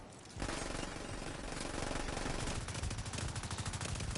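Sustained rapid automatic gunfire in the video game The Division 2 kicks in after a brief moment of quiet, a loud, dense, continuous burst of shots that goes on with no voices over it.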